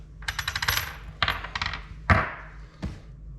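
A metal bolt, nut and washers for a tow bar clink close up as they are handled, with a quick rattling cluster of small metallic taps followed by a few sharper single knocks.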